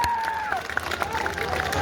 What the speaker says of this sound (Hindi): मैं चाहता हूं सबसे पहले जोरदार ताली आप लोग प्रेम जी के यहाँ पे बजाने का काम करें